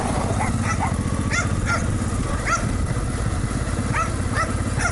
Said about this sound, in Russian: Здесь собаки.